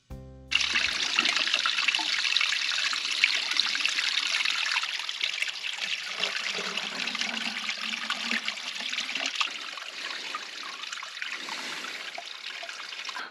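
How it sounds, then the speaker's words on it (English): A small mountain spring flows beside a backpacking trail in the Shining Rock Wilderness. It makes a steady, close trickling and gurgling sound of water that runs unbroken and alone for the whole clip. "There's a little spring right down here. It's flowing very well right now"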